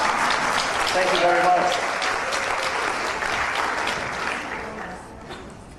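Loud audience applause for steampunk costume contestants at a fan convention fashion show, sustained clapping and cheering that slowly tapers, with a voice briefly speaking over it.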